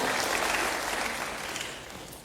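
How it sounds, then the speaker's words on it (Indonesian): A church congregation breaks into a dense wash of applause during a sermon, full and steady before gradually fading over a couple of seconds. "Yang mengerti, berikan tepuk tangan bagi Tuhan."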